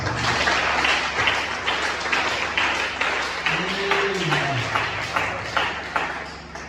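A church congregation claps steadily in unison to acclaim the Lord, a dense, loud wash of applause that continues through the whole stretch, with some voices mixed in.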